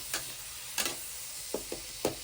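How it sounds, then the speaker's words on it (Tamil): Chopped tomato fries in a pan for a tomato capsicum rice dish, with a soft sizzling bed broken by a few scraping stirs of a spoon, close and fairly quiet. "தக்காளி ஆட் பண்ணிவிட்டு தக்காளி நல்லா ஃப்ரை பண்ணணும்"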